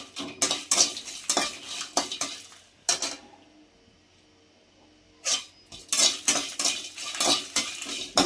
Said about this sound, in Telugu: కొద్దిసేపు బాగా వేయించుకోవాలండి